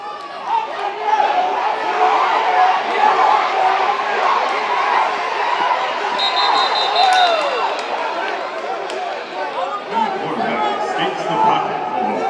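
A home crowd cheers at the A7FL 2023 championship football game between Tampa Nightcrawlers and Las Vegas Insomniacs, a steady roar of chatter and shouts that fills the whole stretch, with a loud announcer talking over it.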